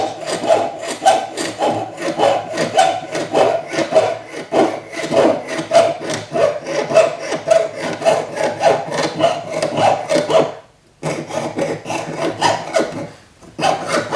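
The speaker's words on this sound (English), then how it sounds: "the sound from the saw changes as I'm coming around corners" A jeweler's saw rasps through metal for a cuff bracelet in quick, steady back-and-forth strokes, close and continuous, with two brief pauses near the end.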